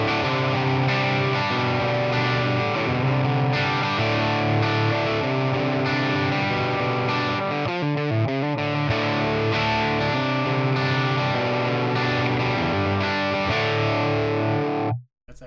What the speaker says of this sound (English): let's try it with the Les Paul, because I think more output even creates some more fuzz